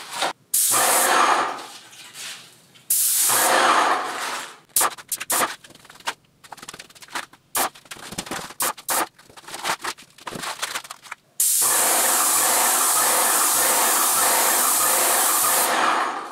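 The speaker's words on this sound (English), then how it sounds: "keeping the gun at the same angle relative to the door throughout each spray" A paint spray gun lays black paint over a white entry door in loud bursts of broad hissing spray broken by short pauses, ending in one long sustained pass.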